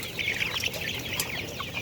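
Golden silver chicks, including a few bald-necked ones, cluck and cheep busily while feeding, a dense continuous chatter of many close birds with no talk.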